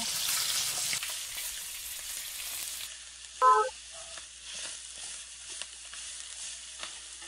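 Spices sizzle and fry in a pan of fish curry with turmeric, salt and chili powder, a steady hiss that fades after water goes in, with a brief stirring clatter partway through.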